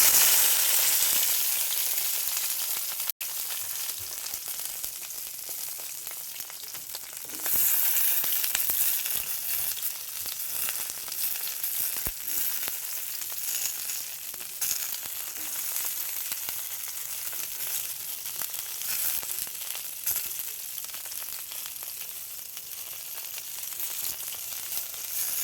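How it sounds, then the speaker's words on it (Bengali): Okra frying in mustard oil in a hot wok, a steady close sizzle and crackle running throughout with small stirring scrapes, no talk. "ঢেঁড়স ভাজাটা দিয়ে দেব"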